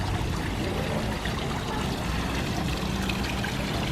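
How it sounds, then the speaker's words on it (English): Water flows into a small kiddie swimming pool at a resort in Angeles City, Philippines, making a constant, fairly loud splashing trickle that runs steadily for four seconds with no talking. "Little water flowing right there."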